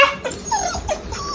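A dog at night gives a quick run of short yips, whimpers and whiny barks, close and fairly loud, with nobody talking.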